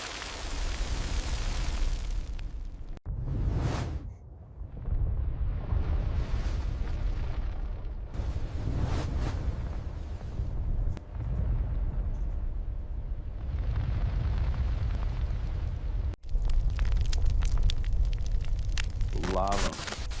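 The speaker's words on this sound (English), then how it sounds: "Lava." A lava eruption, AI-generated, giving a continuous loud roaring rumble broken by a few abrupt cuts, with a deep heavy low end throughout and no clear speech.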